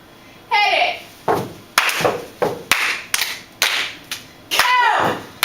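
A high school cheer section for the Glenwood Rams claps in a sharp, steady rhythm, close and loud, about a dozen crisp hits mixed with shouted chant voices.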